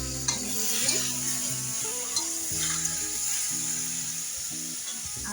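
Spices for palong saag sizzle in hot oil in a pan, with a utensil scraping and stirring against the metal, a steady close hiss broken by clinks and scrapes.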